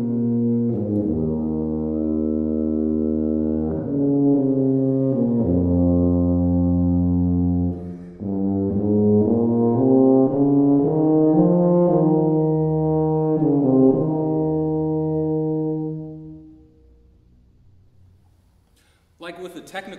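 A solo tuba plays the Blazhevich Andante con moto etude as a slow, sustained, legato melody of low held notes that goes on for about sixteen seconds, stops, and is followed by a short burst of noise.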